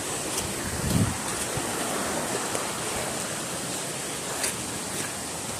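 Rushing water near Limutan Falls in Bagac, Bataan, a steady broad roar like a waterfall or surf, with some wind buffeting the microphone and no voices.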